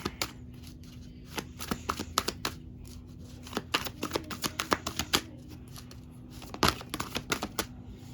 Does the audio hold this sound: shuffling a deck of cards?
yes